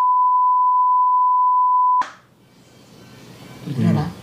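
A phone call ends with a loud, steady electronic tone that holds for about two seconds and then abruptly cuts off, leaving faint line noise and a muffled voice afterward.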